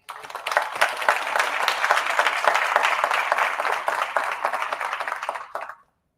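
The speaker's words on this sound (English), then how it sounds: "please give a round of applause for the co-founder and co-CEO of Be Nimble Foundation" Audience applause at a pitch competition as a judge is introduced, a dense, steady clapping from a crowd that holds for about five seconds before stopping abruptly.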